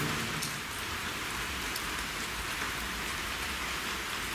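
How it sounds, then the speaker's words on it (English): Steady rain falls outside, a dense even hiss of drips and drops hitting surfaces, constant and fairly loud with no voices. "that is raining at the moment, so you may hear some bits of drips and drops"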